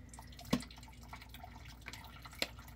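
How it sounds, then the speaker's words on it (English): Water drips and falls into a drainage pit by a pond, a faint background trickle broken by two or three distinct, sharper drops. "I just shifted that and some water's falling out"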